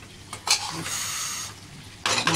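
Masala sautéed in a pan for kosha, short bursts of scraping and stirring with a soft sizzle between them, close and fairly quiet, no one talking.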